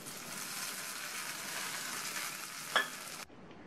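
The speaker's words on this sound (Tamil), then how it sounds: "இது கூட கருவேப்பிலை, 2 கட் பண்ண காஞ்ச மிளகாய், இதை நல்லா ஒரு தடவை இந்த மாதிரி வதக்கி விட்டுட்டு தாளிப்பை இந்த சட்னியில் சேர்த்துடலாம்" Mustard seeds, dal, curry leaves and dried red chillies for a coconut chutney tempering sizzle in hot oil with a steady, fairly quiet crackling hiss and a brief sharp pop near the end before it cuts off.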